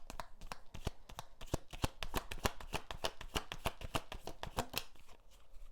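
A deck of tarot cards is shuffled by hand at close range, giving a fast, even run of crisp riffling slaps and flicks that lasts the whole stretch with no talking.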